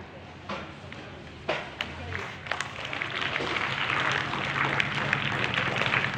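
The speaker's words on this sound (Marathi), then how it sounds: "टाळी जोरदार वाजली पाहिजे।" Applause at a medal ceremony, beginning with a few scattered claps and pops, then swelling into steady crowd clapping that stays fairly loud to the end.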